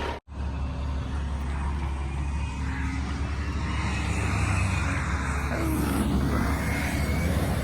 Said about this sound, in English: Whole truck sounds so bad. So bad. You can hear it.